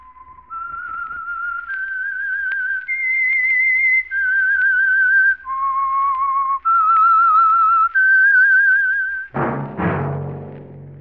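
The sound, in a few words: whistled theme melody, The Whistler radio program signal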